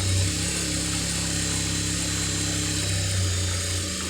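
A sewing machine runs a steady, continuous motor whir with a faint rapid stitching pulse as it sews along the edge of a blouse lining, close and loud with no talking.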